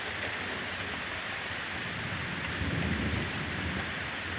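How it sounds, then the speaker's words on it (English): Heavy rain pours down in a dense, continuous hiss while thunder rolls as a low, swelling rumble partway through, with no voices present. "Thank you for the thunder."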